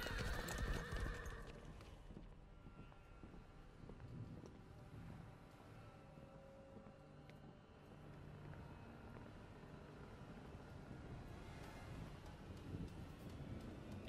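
Horses in the Mortal Kombat X game ride toward a fortress, with rhythmic hoof clip-clops and whinnying over a dense cinematic soundscape that runs steadily throughout.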